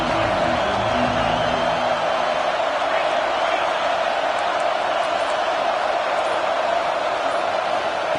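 A football stadium crowd roars in a steady, dense wall of cheering, with a commentator talking over it throughout.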